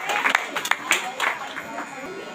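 A church congregation at a Sunday prayer meeting claps loudly together, a dense patter of hands over a brief stretch, with voices mixed in.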